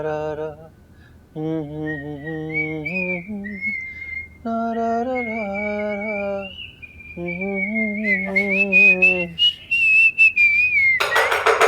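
A person whistles a bright, wavering tune that runs through the clip, while a second voice hums separate phrases underneath; the whistling becomes louder and more prominent toward the end.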